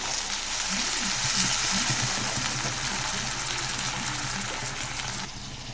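Potatoes and tomatoes frying in a pan for an aloo curry, giving a steady close sizzle with crackling throughout and a faint voice woven in underneath.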